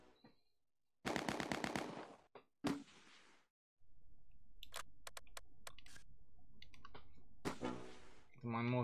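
Gunfire in the Allied campaign of the strategy game Close Combat 2: sharp rapid bursts and scattered single shots among clicks, with a voice talking in between.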